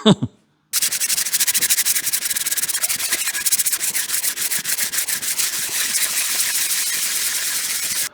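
Hand sanding on the surface of a Trans Am engine: a steady, dense scratching rub with rapid back-and-forth strokes, close and loud, running continuously after a brief pause at the start.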